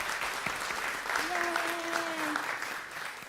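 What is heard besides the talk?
audience applauding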